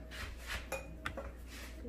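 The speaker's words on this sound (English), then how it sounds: "the goal of cutting the butter into the flour is that you get these little pearls that start to form" Cold butter being cut into flour for sweet potato biscuits, a quiet, steady scraping and clinking of a utensil against a mixing bowl, with a couple of sharper clicks, continuing without any talk.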